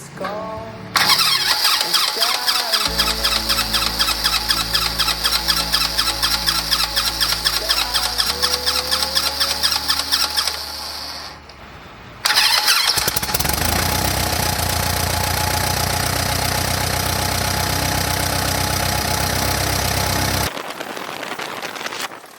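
A Cessna 140 light aircraft engine cranks with rapid rhythmic chugging, then catches and runs loudly and steadily, its roar rising and settling nearby.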